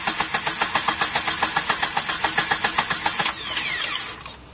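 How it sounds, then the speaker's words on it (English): The starter of a Jeep Wrangler YJ cranks the engine in a fast, even chugging rhythm for over three seconds, loud and close, then stops without the engine catching. "So now we're gonna do the starter turnover trick"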